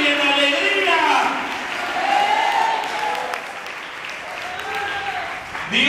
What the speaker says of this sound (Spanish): Le quiero dar esas palmas al Señor.